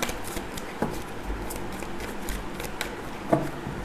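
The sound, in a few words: tarot deck of cards being shuffled and split in two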